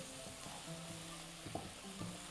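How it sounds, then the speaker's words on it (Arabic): Mushrooms seasoned with thyme and salt sizzle steadily in a little oil in a pan, a close, constant frying hiss with faint stirring and utensil scrapes over it. "اهو هزود بس شويه زيت كده، اهو هنحمره"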